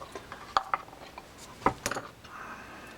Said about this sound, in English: I'm taking the 4 other screws out and I'm laying them on the table